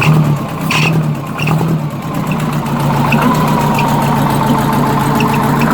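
A Porsche 914 Type 4 engine runs on half a carburetor, loud and near, holding a rough, slightly uneven idle with small surges early before it steadies into a continuous rumble.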